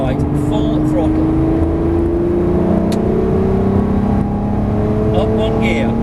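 Lamborghini Murcielago LP640 at full throttle on a track, a strong engine drone rising steadily in pitch, close, with an instructor talking over it.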